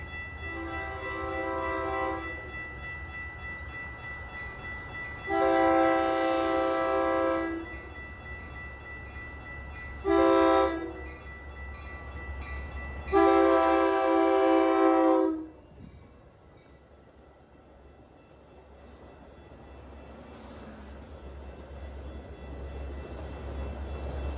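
A Metra commuter train pushed by its locomotive heads toward Chicago, sounding a loud horn in four long blasts over a steady low rumble of passing rail cars that fades afterward.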